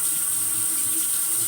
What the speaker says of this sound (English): It's about to get noisy because I'm going to turn the water back on.